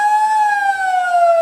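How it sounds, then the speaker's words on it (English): The full-time siren at a women's Australian rules football match, South Fremantle against Swan Districts, sounds as one loud, steady, sustained wail that drifts slightly downward in pitch, with no talk over it. "There's the siren."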